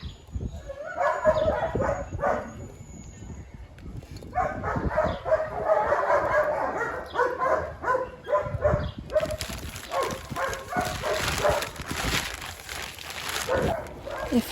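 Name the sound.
dogs barking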